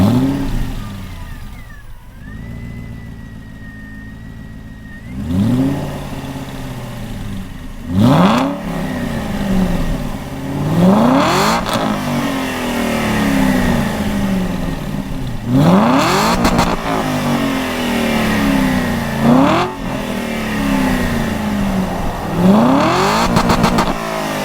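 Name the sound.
2008 Aston Martin Vantage V8 Roadster exhaust note revving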